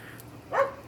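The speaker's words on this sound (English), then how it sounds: "Excuse the dog" A dog barks once, short and moderately loud, in a home kitchen before cooking begins.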